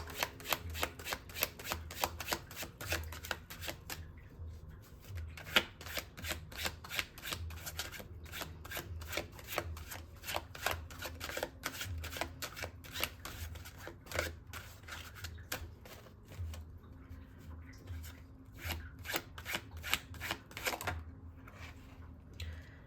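Tarot cards being shuffled and drawn during a reading, a steady rapid stream of crisp riffling card flicks running throughout, close and fairly quiet, with no talking.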